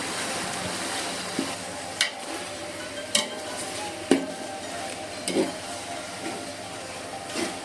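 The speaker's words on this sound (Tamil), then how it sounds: "இப்போ மட்டன் சேர்த்து நல்லா பிரட்டி விட்டுடலாம்" Mutton being stirred in a pot for biryani: a soft, steady sizzle of frying meat with scattered scrapes and knocks of a spoon against the pot, moderately quiet and close.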